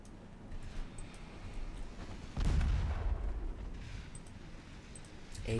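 Battleship main guns firing armor-piercing rounds in the naval game Ultimate Admiral Dreadnoughts, a single deep booming blast that rolls out over a low rumbling battle background, moderately loud.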